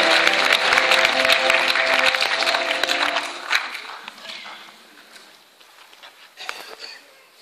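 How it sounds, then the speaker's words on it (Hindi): Warm applause bursts from a stage-event audience alongside a sustained musical tone, strong for the first few seconds and then thinning into scattered, fading claps. "जोरदार तालियों के साथ अभिनंदन करें"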